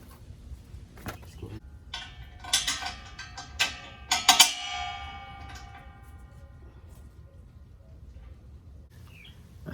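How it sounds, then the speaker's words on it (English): Bolts are tightened on the exhaust downpipe of a Honda CRX Si, a cluster of quick metallic ratchet clicks and clinks in the middle, with quiet room noise before and after. "what we're doing right now is just tightening up the bolts on the downpipe here"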